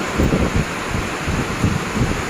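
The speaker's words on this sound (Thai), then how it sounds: "ลมแรงด้วยนะคะ" Strong wind during a thunderstorm roars steadily across the microphone, with buffeting gusts and low rumbling and no voices.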